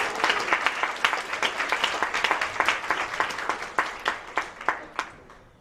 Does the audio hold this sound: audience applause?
yes